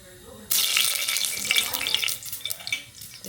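Water splashes into hot oil heating in a pressure cooker, a sudden loud hiss and sputter that starts half a second in and keeps crackling at a steady level, with no one talking.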